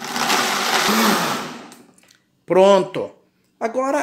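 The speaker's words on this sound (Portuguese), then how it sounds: "a gente vai colocar aqui no liquidificador. Olha só. E nós vamos bater" A kitchen blender whirs loudly, pulverizing melon rinds for juice, then winds down and stops, followed by a short stretch of speech.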